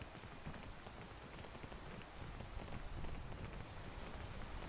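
Steady rain hisses down inside the video game PEAK, a dense continuous patter of drops that swells slightly midway, with no voices over it.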